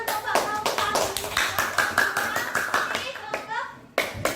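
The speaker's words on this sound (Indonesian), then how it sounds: "Tepuk tangan." A classroom of children claps hands together in a dense burst of sharp, rapid claps, with kids' voices chattering over it and a final clap standing out after a brief lull.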